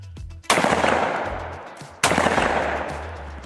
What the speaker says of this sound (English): We're shooting the Federal Top Gun 1 1/8 ounce target loads.